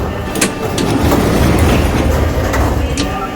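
A metro train on line M2 in the video game Kyivmetromasters rolls along with a loud, steady rumble and rhythmic wheel clatter, heard close from inside, with no talking.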